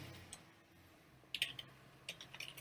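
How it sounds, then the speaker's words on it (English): Username being typed on a computer keyboard: a few faint, sparse keystroke clicks in two short bursts over a quiet room background, with no talking. "all I'm doing here is I'm typing in a username."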